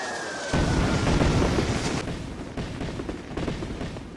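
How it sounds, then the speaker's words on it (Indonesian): A grenade and fireworks go off together in a battle scene, giving a loud, dense blast that erupts after a brief quiet and then rumbles and crackles on for several seconds before slowly fading. "granat itu pun langsung meledak"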